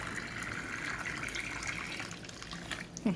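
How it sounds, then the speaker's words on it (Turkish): Hot water pours steadily into a pot of green beans, a continuous close splashing rush that ends with a brief clunk. "Sıcak su ekliyorum"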